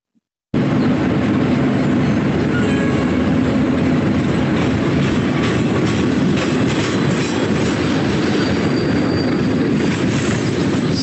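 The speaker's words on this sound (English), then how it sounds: "he's arrived at the train station from which they are going to head off on the train" Train running along rails toward Auschwitz, a loud steady rumble with faint rhythmic clatter lasting throughout after a brief silent start.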